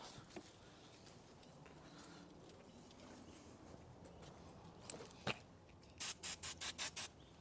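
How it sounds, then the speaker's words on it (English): Quiet background, then a series of short hissing spray bursts from an aerosol can of penetrating oil on a Hyundai Elantra's suspension, about five quick pulses close by near the end. "we're going to spray a little bit of Rustula"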